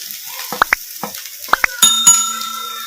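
Sharp clinks and knocks of a utensil against a pan as cabbage, carrot and beans are tipped in, a few distinct taps followed by a brief ringing tone and a low hiss of frying, close and loud.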